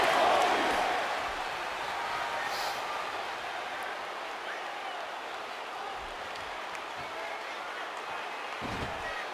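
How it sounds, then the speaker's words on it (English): Crowd roaring at a live professional wrestling event, a loud sustained cheer that peaks at the start then settles into a steady noisy din. "Wow, listen to this crowd."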